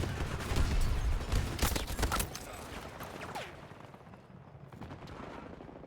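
A light machine gun fires in Battlefield 2042, a modern combat shooter: loud, close, rapid bursts in the first two seconds, then sparser distant shots fading out.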